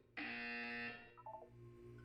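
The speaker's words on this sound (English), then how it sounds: "You will hear a buzzer." A single loud electronic buzzer in Portal sounds for about a second, followed by a few short quieter tones.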